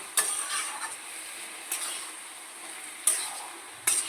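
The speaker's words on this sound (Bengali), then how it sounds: "এটা ভালো করে মিশিয়ে নিব" Powdered milk is stirred into prawn pulao in a pot, with a spoon scraping the pot at intervals over a soft, steady sizzle; the scrapes come three or four times, fairly close and moderately quiet.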